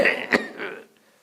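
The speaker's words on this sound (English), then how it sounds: "I'm coughing." A man in a spiritual talk gives a short, sharp cough that is partly a throat clear, near and moderately loud, followed by a softer breathy sound.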